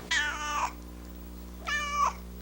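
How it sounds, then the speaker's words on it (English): Two clear, close cat meows, each drawn out for about half a second and separated by a pause of roughly a second, with no talking. "Those cats sure like you, Joey."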